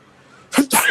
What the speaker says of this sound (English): Oh, I gotta sneeze.